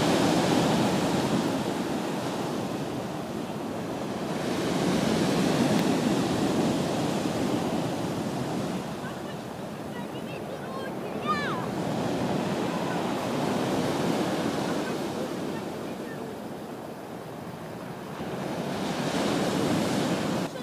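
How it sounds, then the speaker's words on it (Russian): Sea waves break on a sandy shore at Sukhum, Abkhazia, on a snowy winter day. The surf rolls in as steady, close washes that swell and ease every few seconds, with a brief faint chirp partway through. "какие волны!"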